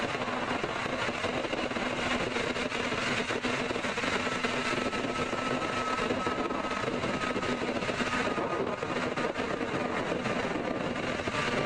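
A Japan Airlines airliner taxiing toward runway 16 left at Seattle airport, heard as a steady, fairly distant jet engine roar with a faint whine, continuous and unbroken.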